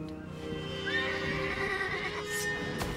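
A horse whinnies in a long, rising then wavering neigh, close and clear against a steady outdoor hum, with a faint rustle near the end.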